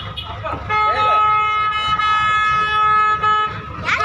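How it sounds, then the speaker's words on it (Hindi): A large express train engine sounds its horn in a sustained multi-tone blast lasting around three seconds, loud and close, with background crowd noise around it. "ये इंजन है, बहुत बड़ा इंजन है, पूरा बिजी एक्सप्रेस। बजा रही है।"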